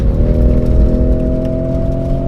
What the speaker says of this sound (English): We're going to go ahead and overtake here.